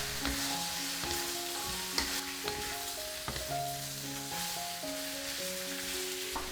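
Vegetables stir-fried in mala sauce in a hot wok, a steady bright sizzle under clanking spatula strokes, with a tonal melody running underneath the cooking sounds.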